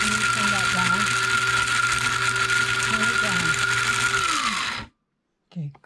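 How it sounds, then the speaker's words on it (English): Grandma's grinder works through seeds with a steady, loud mechanical whir and ratcheting grind, holding an even drone for almost five seconds before cutting off abruptly, followed by a brief voice. "Okay, we're grinding the seeds and all."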